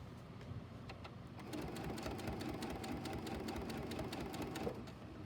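A sewing machine stitching fabric binding onto a curved tree skirt edge, a steady mechanical whir with quick ticking needle strikes, running fairly close and continuous throughout.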